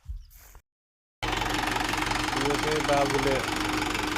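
A tractor-driven rotavator works a field, covering maize planted the day before. The steady, close engine drone and knocking run continuously after a brief pause, and a voice speaks at the start.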